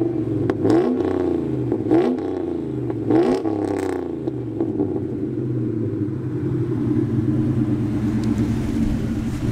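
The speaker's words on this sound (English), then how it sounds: "We just want to see how this thing sounds revving it." A 435-horsepower turbocharged new-generation Ford Mustang engine revs hard several times in quick bursts, then settles into a loud, rumbling idle close by.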